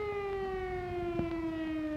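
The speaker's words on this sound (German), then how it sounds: "Ein auf- und abschwellender Heulton von 1 Minute Dauer bedeutet zum Beispiel Luftalarm." A Cold War civil defense air raid siren in Westphalia wails with a loud, sustained howling tone that slowly slides downward in pitch, heard alone and steady.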